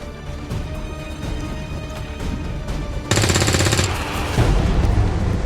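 Automatic gunfire in XCOM 2, a sustained loud burst of rapid shots over busy battle ambience, with no talk.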